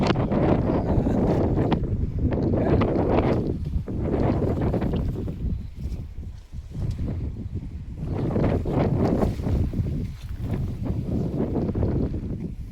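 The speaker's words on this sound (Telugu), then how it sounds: "అంటే మనకి గాలి అండ్ ఎక్కువ ఉంది" Strong wind blows across an open farm field of chilli plants in the Palnadu area of Andhra Pradesh, heavy gusting rumble buffeting the microphone in surging waves that rise, ease briefly and build again.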